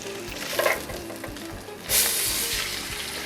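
A pesto-crusted ahi fillet sizzles loudly in a hot pan just after being flipped, with a bright burst of frying hiss midway and a steady crackle continuing close by, no talking.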